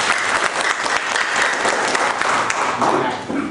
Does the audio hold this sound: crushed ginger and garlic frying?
no